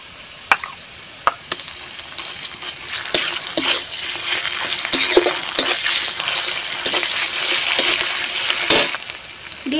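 A ground paste of coriander, cumin, green and dried chilli and garlic fries in a pan, loud close sizzling broken by repeated sharp spoon strokes and clatters against the metal, alone without speech.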